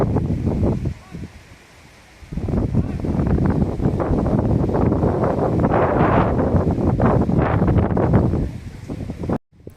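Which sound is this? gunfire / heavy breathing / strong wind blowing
strong wind blowing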